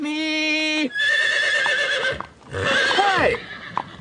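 Frightened horses neigh loudly and close, a long shrill whinny at the start followed by further neighs and snorts and some hoof movement, with voices speaking over parts of it.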